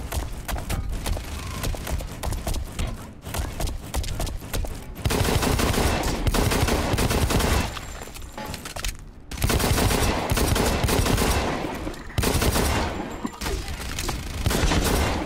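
Pistol fire in Blacklight: Retribution, dense rapid bursts of shots, loud and close, pausing briefly between volleys over steady game noise.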